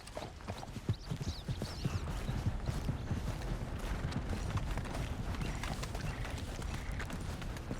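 Steady, rhythmic clip-clop of horse hooves in the video game Red Dead Redemption 2, moderately close and continuous throughout, with no talking.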